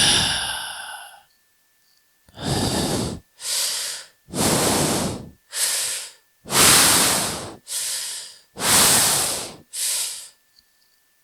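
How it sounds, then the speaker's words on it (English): A person breathes heavily, close to the mic: about eight loud, separate huffs and sighs with short silent gaps between them, after a brief voiced sound at the start. "I apologize for all the heavy breathing"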